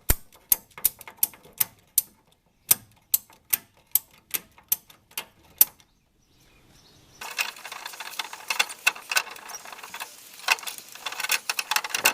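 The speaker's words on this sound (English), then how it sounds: "I'm going to ratchet strap it up" A ratchet strap clicks sharply in evenly spaced single ratcheting strokes while being tightened to lift the axle of a 1989 Ford F-150. After a short pause, a denser, rustling stretch of scraping and clicking follows.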